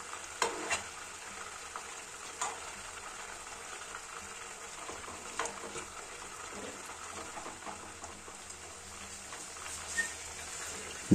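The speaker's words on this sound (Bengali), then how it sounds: "মাংসগুলো কিছুক্ষণ পর পর এপিট ওপিট করে দিতে হবে এবং বাদামি বর্ণ না হওয়া পর্যন্ত খুব সুন্দরভাবে ভাজতে থাকতে হবে" Chicken pieces for brown stew chicken frying in a pan and turned now and then until browned, a continuous hissing sizzle with occasional light knocks and scrapes as they are flipped.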